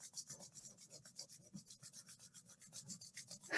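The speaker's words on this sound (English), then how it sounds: "When we rub our hands together, it makes heat through friction." Two palms rubbed briskly together, a fast, rhythmic swishing rasp repeating several times a second, close and fairly quiet, with no talking.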